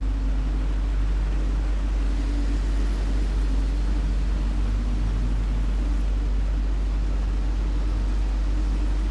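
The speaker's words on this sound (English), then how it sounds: "let's add a more enhanced Atmos track with exaggerated low-end bass sounds and a richer general interior car tone" Deep, steady rumbling interior car tone with exaggerated low-end bass, a continuous dark drone sustained evenly throughout with no voices.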